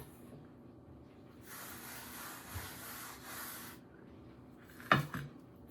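Soft, supple bread dough is worked out of a bowl with a dough scraper, giving a quiet rubbing scrape for a couple of seconds, then a brief sharper knock near the end.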